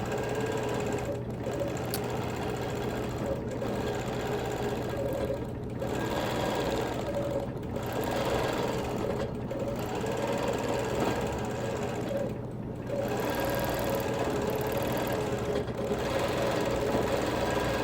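A sewing machine quilting a chain pattern around a quilt, running in a steady, fast mechanical stitching rhythm with brief regular pauses, close and continuous throughout.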